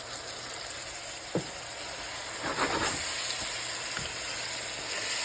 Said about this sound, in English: We're back to sizzling over here.